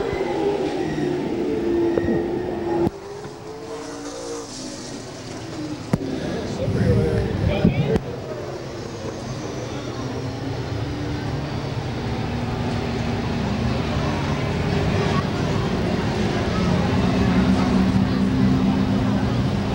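Nor-Cal late model race cars roar around Lakeport Speedway, a steady wash of engine drone building as the field gets back up to speed, with a commentator talking over it throughout.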